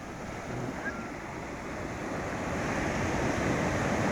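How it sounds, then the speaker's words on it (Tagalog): Large ocean waves breaking at Baler beach in the afternoon, a steady broadband roar of surf with wind noise on the microphone, building slightly louder toward the end, no voices. "malalaki pa din ang alon kahit hapon na"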